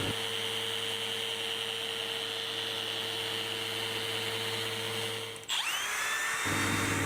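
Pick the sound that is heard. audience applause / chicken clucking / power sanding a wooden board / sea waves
power sanding a wooden board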